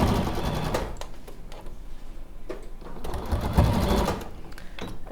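A sewing machine stitches quilt seams at a steady fast whirring clatter, close and continuous across the few seconds with slight shifts in speed.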